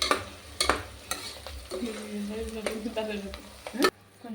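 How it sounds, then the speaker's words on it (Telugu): Spice masala with curry leaves fries in a pan for a country chicken curry, with a hissing sizzle and several sharp stirring scrapes and clanks close by, ending abruptly after a final loud knock. "కలర్ చేంజ్ అయ్యే వరకు వేయించుకోవాలి"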